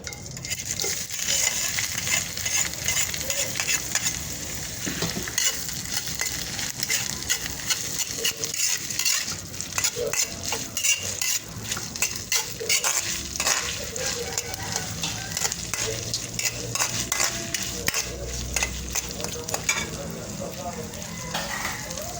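Shrimp stock for pansit palabok cooks in a pot with a continuous sizzle and bubbling, punctuated by stirring and utensil clatter close by, while a voice talks over it.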